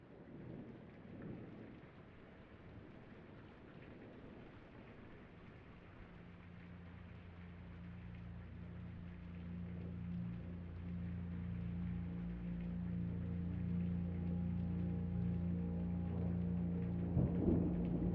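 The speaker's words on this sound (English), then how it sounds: "You got that like cinematic rain happening here." Steady cinematic rain with low rumbling thunder in the video game Blue Prince, a continuous wash of rainfall that swells gradually louder, with deep rolling rumbles underneath and a soft tonal drone joining partway through.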